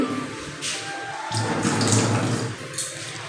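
Something being rinsed under a running tap in a home kitchen, a short burst of splashing water that swells and then eases, close by with no talk.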